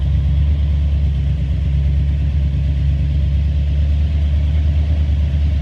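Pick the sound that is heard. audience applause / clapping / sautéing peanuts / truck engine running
truck engine running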